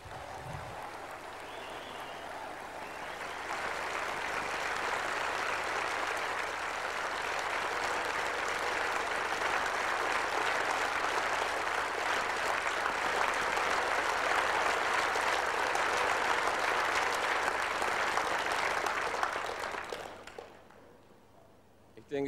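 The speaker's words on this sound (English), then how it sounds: "I think this applause belongs to all of us." An audience at a talk breaks into sustained applause, a dense wash of clapping that swells and holds for about twenty seconds before fading out abruptly.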